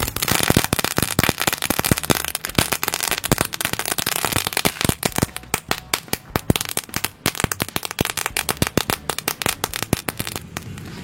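A mercon rabi bang firecracker going off nearby in a rapid, relentless string of sharp pops and crackles, loud and continuous, thinning slightly toward the end.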